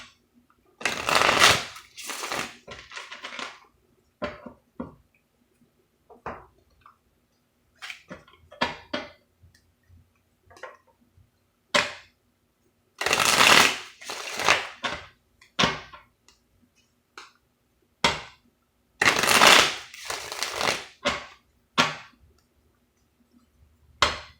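Tarot cards being shuffled, close and loud, in several bursts of riffling and snapping separated by quiet pauses, with scattered single clicks of cards between them.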